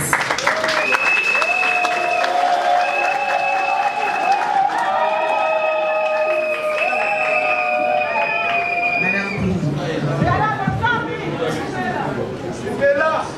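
Crowd applause at a royal enthronement ceremony for a Congolese singer, a moderate clapping bed mixed with chatter, voices and sustained musical tones playing over it throughout.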